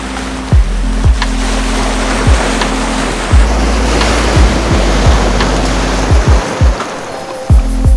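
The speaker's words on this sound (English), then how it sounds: "the waves are unpredictable and I could end up getting swamped" Ocean surf at sunrise, waves breaking against the shore in a steady broadband wash, with repeated low thumps of wind buffeting the microphone throughout.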